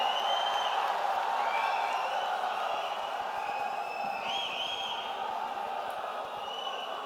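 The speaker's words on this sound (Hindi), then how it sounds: "आप सभी तालियों के साथ उनका स्वागत करें" A rally crowd applauds and cheers to welcome a speaker, steady distant clapping with scattered whoops spread across the whole stretch, moderately loud and continuous.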